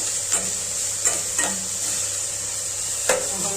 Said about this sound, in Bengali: বন্ধুরা এরকম ভাজা ভাজা করতে হবে।